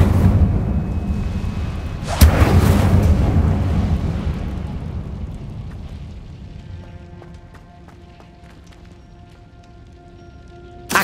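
Incendio fire spell cast in Hogwarts Legacy, a sudden loud whoosh and burst of flame near the two-second mark that roars briefly and then fades into lingering ambience.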